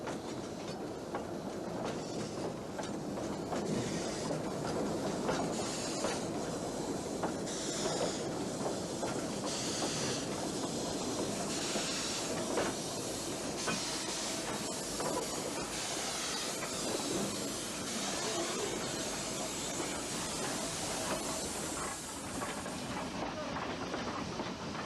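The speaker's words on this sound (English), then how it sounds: "Almost as soon as the southbound train comes to a halt, that from Régua comes in fast at the other end of the low platform." An old train runs along the Corgo railway line in Portugal, a steady rumble with rhythmic clickety-clack of wheels and a hissing edge, continuous and fairly close throughout.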